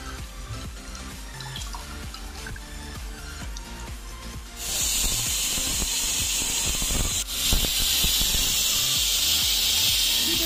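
A pressure cooker letting off steam, starting as a dripping, bubbling hiss that suddenly jumps into a loud, sustained high-pitched rush of escaping steam that continues to the end, close by.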